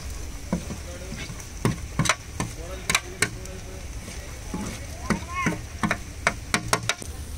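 Green chillies added to onions frying in a pan during village tribal cooking, steady sizzle under irregular sharp clinks and scrapes of stirring, close and moderately loud.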